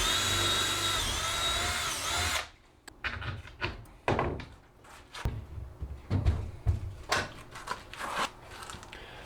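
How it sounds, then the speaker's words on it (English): Power drill boring a bolt hole in a wooden DIY cold frame: a steady whir at first, then a series of short, close bursts and thunks as the bit works through the piece. "get my hole drilled, and then mount it onto this permanently"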